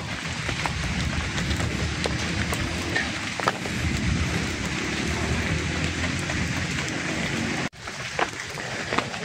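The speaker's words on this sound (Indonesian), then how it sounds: "Kondisi hujan, rintik-rintik." Light rain falls steadily on a forest burial site with stone steps in Dayeuh Luhur, Sumedang, a continuous soft broadband hiss that lasts the whole stretch, dipping briefly near the end.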